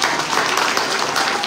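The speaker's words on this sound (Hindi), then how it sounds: "अगर जोरदार ताली इस बच्ची के लिए।" Loud, dense applause for a young student at a school award show, a continuous wash of many hands clapping with no voices on top.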